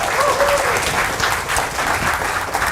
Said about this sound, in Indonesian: Tepuk tangan lu buat kita semua Bapak Ibu sekalian ya